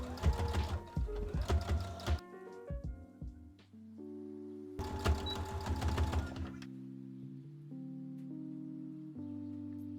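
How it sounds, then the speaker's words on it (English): A sewing machine stitches across the top of a corset top in quick whirring bursts, pausing in between with a quieter hum and clicks, then starting a second long run, close and without talk. "So I'm going to stitch across the top here and then fold this up and then stitch across the top again."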